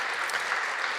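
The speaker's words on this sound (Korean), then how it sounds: "여러분 박수로 한번 환영해 주시죠" Steady applause from a church congregation at a Sunday service, a dense, even wash of many hands clapping together throughout, fairly loud and unbroken, with no voices standing out.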